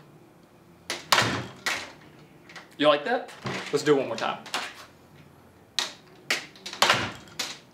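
An interior door in a newly built frame swings shut with a few soft thuds and clicks, set among bursts of nearby talk from someone speaking.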